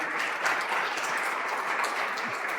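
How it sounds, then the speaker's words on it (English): Round of applause from a forum audience, a steady, even wash of many hands clapping with no voices over it. "So I want to do a round of applause for all of you and that good work."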